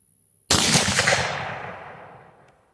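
A single 8mm Mauser rifle shot firing a powder-coated cast bullet outdoors, one sudden loud crack with a long rolling echo that fades over about two seconds.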